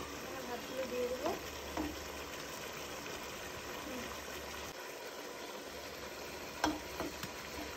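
Rice tipped into a pot with bay leaves, cardamom and salt, then stirred, giving a steady close sizzle with a few scraping stir sounds and a soft bump near the end.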